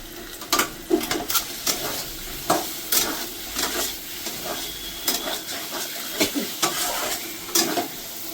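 Spice masala sautéing in a pan for a cauliflower and potato curry, with repeated spatula scrapes and stirring clatter over a steady hiss of sizzling oil, close and moderately loud, no talking.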